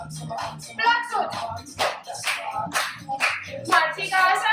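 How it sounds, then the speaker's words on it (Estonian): Hands clapping in a children's chair workout, a series of short claps mixed with an adult voice talking and counting throughout. "plaksud."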